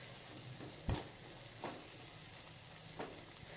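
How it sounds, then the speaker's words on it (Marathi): Tomato sautés in a pan, a quiet, even sizzle punctuated by three soft spatula knocks spaced a second or so apart; no voices. "टोमॅटो परतून झालेला आहे"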